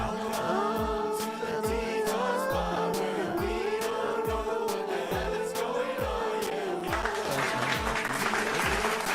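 Rhythmic clapping keeps time over loud music with a heavy, pulsing beat. It is steady throughout and grows busier toward the end.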